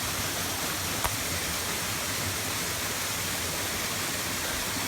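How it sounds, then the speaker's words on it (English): Water trickling and flowing over mossy rocks in a damp subtropical rainforest near a creek and falls, a constant broadband rushing wash that stays even throughout with no talk. "water dripping down the rocks"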